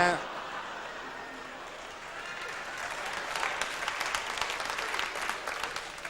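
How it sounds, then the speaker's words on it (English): Audience applause and cheering at a live comedy club show, a steady wash of clapping that swells after the first couple of seconds and stays loud throughout. "a round of applause for the car there"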